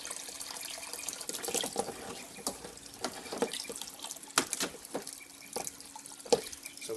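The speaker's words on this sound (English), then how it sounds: "So we can turn the tap off now." Water from a tap runs steadily while flushing the cooling system of a KN/KQ Ford Laser or BJ Mazda 323, with splashing, dripping spatters and occasional louder gushes, close by and with no talk.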